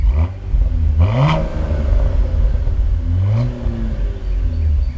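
A Chevrolet SS's loud V8 exhaust revs twice, the engine note climbing sharply each time before settling back into a deep, burbling idle.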